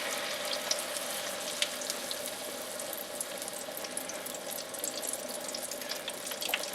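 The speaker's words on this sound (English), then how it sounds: "into the deep fryer we go" Spiralized batter frying in a deep fryer, a steady hissing sizzle with fine crackling bubbles, fairly quiet and continuous with no talking.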